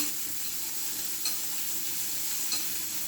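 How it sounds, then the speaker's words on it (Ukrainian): Pork cracklings frying in a pan are stirred, giving a steady close sizzle with a couple of soft scraping stirs, and no voices. "перемішаємо періодично."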